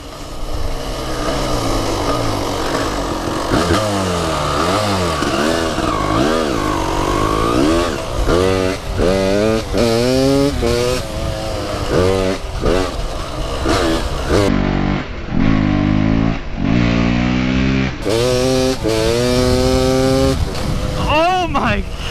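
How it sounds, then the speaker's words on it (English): A Honda Grom swapped with a CR250 two-stroke engine howls through a long power wheelie, loud and close, repeatedly climbing in pitch and dropping as it revs, with excited shouting and talk over it. "that's the only and longest power wheel I've ever done on a Grom"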